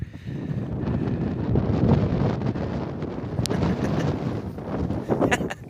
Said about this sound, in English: Bit windy, Sky, isn't it?